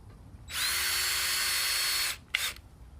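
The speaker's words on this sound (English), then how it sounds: "what I like to do when screwing these together, go ahead and get the screws in and started." A power drill drives screws into wood while a simple desk is being assembled, giving one steady whir of about a second and a half and then a short second burst, loud and close.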